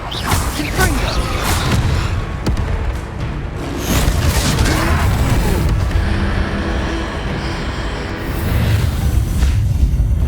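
A Confringo blasting spell goes off in the Hogwarts Legacy video game during a fight with a troll, giving loud booming bursts and whooshes over a busy battle din with voices mixed in.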